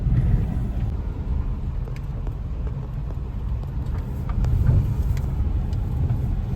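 A car moves along at low speed before parking. It gives off a steady low rumble of engine and road noise, swelling slightly midway, with faint clicks and taps over it.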